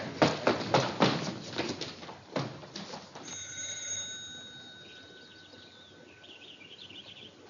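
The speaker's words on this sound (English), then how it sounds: "The phone's ringing." An old telephone bell rings in a sustained metallic trill after a burst of loud clattering noise, in a 1948 film scene, fairly clear and alone.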